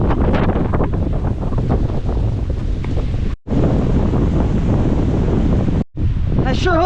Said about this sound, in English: I sure hope this wind stops soon.